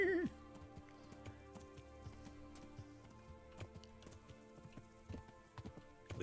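A horse gallops in Kingdom Come: Deliverance, its hoofbeats a quick, regular clip-clop close by, continuing under a voice at the start and end.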